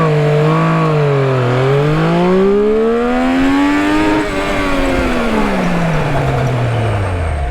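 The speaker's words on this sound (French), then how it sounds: "Je vais vous faire un petit 0 à 100, il y a 0 aide électronique." A Triumph Street Triple 765 RS motorcycle runs from standstill toward 100 km/h with no electronic aids, its engine note climbing loudly through the gears, dipping at each shift, then a long wailing pull before easing off.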